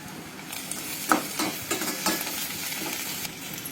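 Ginger and garlic frying in a pan for an egg Maggi noodle dish, a continuous close sizzle broken by several sharp stirring scrapes and clinks.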